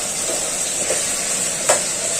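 Steady sizzling of drumstick (moringa pod) pieces frying in a hot pan, a continuous close hiss with a brief louder crackle near the end.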